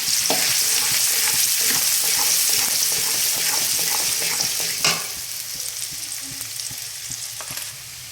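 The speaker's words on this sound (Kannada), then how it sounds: "ಇವಾಗ ಎಣ್ಣೆ ಕಾಯ್ದ ಮೇಲೆ ಸಣ್ಣದಾಗಿ ಹೆಚ್ಚಿಟ್ಕೊಂಡಿರುವಂಥ ಈರುಳ್ಳಿ ಹಾಕೊತಿದ್ದೀನಿ." Two medium onions, finely chopped and dropped into hot oil for egg fried rice, crackle in a loud, even sizzle with stirring clatter, then settle to a softer hiss after a single knock.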